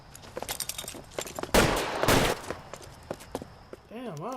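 Gunfire in LA Noire: a flurry of sharp shots, with a dense burst in the middle and scattered single shots around it, mixed with footsteps and other game sounds.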